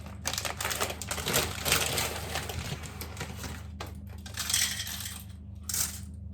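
Dry macaroni pasta pours into pastry cases with a sustained clatter of small hard pieces, rattling and clicking close by in several bursts with brief pauses.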